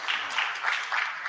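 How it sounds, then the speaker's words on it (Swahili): Audience applause at a Kenyan arts and copyright event in Kisii, a steady wash of many hands clapping with gentle swells in intensity, moderately loud and continuous without talk. "Tuwapigie makofi tena"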